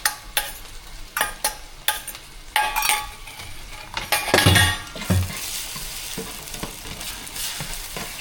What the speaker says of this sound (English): we're gonna throw the eggs in there